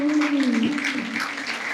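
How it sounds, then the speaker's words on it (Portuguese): A church congregation claps in a sustained wash of applause at an Easter service, with a held tone and a few voices blending underneath. "Você pode aplaudir ao Senhor?"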